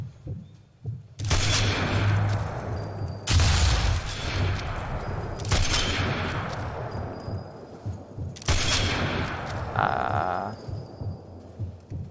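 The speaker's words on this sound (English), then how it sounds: "stop shooting at them" Gunfire in a co-op campaign shooter: four heavy, sustained bursts of shots, each a few seconds long and close and loud, separated by brief lulls, with no talk.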